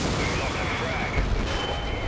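Tank guns booming in a World of Tanks battle on the Prokhorovka map, continuous rumbling fire and distant explosions forming a dense, loud backdrop with game ambience throughout.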